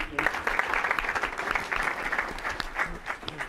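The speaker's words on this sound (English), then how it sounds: "Can we give them another round of applause?" An audience at a California gubernatorial candidate forum on affordability and rural issues claps steadily, a dense, sustained round of applause filling the whole stretch.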